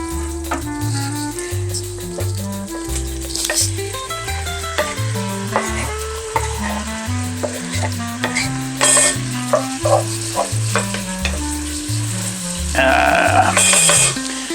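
A brown glaze on meat bubbles and sizzles steadily in a hot pan, a constant crackling hiss heard alongside rhythmic background music.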